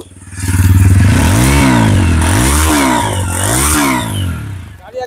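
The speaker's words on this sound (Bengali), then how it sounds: "দেখে নিন গাড়িটার ইঞ্জিন সাউন্ড খুবই সুন্দর রয়েছে" A motorcycle engine revs up close and loud in several repeated rising and falling sweeps, the throttle blipped again and again before it settles back toward idle.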